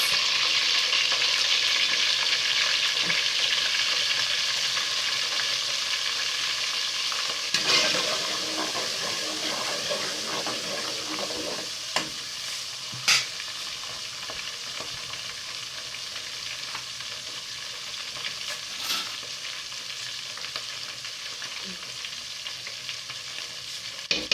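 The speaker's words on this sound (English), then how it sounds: "While frying your onions, you go in with your curry" Steady sizzling and crackling of onions and masala curry frying in a pan for fish stew, with occasional stirring scrapes and clicks, close and continuous.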